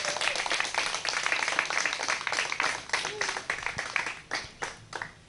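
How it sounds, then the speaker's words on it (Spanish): A congregation at a religious service bursts into clapping, many hands beating in loose rhythm that swells and then thins into separate claps toward the end, fairly close and loud, with no voices over it. "Denle un aplauso al Eterno y póngase de pie"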